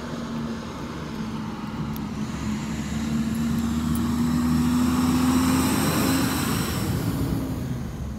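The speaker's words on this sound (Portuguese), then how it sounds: "Aí vem um caminhão ali, Jesus amado." A truck approaches and rumbles past on a road, a steady low engine drone swelling and fading over several seconds, close and fairly loud with no talk.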